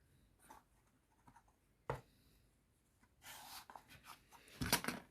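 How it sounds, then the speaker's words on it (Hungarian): A pen marks cut lines on wooden parts for a model aircraft build: faint scratchy strokes and taps, then a denser run of rustling scribbles and a sharp crunchy scrape at the end. "Érdemes bejelölni egy tollal. Feljelöljük egy tollal."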